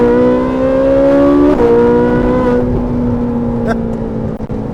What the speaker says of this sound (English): There's a car passing other cars.